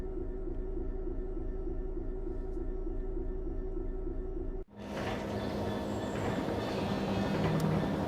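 A Class 66 freight train rumbles past in Train Sim World 5 on the Mildmay Line, a steady rolling drone with wheel clatter that cuts off, then returns brighter with faint squeals.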